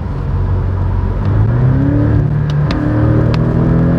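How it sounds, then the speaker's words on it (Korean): A Porsche 718 Boxster GTS accelerates hard under kickdown, its engine droning loudly from inside the car with the pitch climbing through the gears. A brief dip marks a shift before the revs rise again. "어떤 모드에서든지 가속 페달을 끝까지 밟으면 킥다운을 하게 되면 금방 바짝 곤두선 상태가 되죠."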